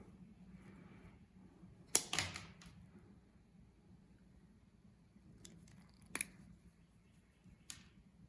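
Cutters snip off the wire ends of a cheap lamp receptacle: a few sharp, close clicks, one near the start and a couple later, with quiet gaps between them.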